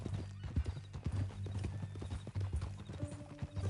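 In Red Dead Redemption 2, a horse's hooves clip-clop in a steady walking rhythm, close and moderately loud. A short whinny comes near the end.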